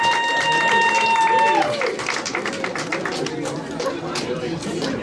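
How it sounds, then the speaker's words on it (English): A comedy show audience breaks into applause: a dense, crackling patter of many hands that swells quickly and holds at moderate volume, with scattered crowd chatter mixed in. "let's get a round of applause for Asians"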